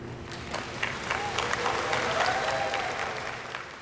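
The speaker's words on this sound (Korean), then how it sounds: "서산갯벌의 세계자연유산 등재 확정 순간 환호성과 함께 박수가 터져 나옵니다." Cheering crowd and steady applause erupt at the moment the Seosan tidal flats are confirmed as a World Natural Heritage site, a dense continuous wash of clapping with scattered voices lasting throughout, moderately distant.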